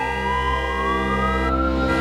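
An ambulance siren wails steadily, a sustained electronic tone slowly rising in pitch, loud and continuous over a low rumble with no talk.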